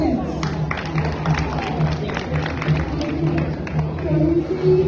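An audience at a welcome speech for an AAPI event at Eastway Recreation Center breaks into scattered clapping, moderately loud over crowd murmur and a speaking voice.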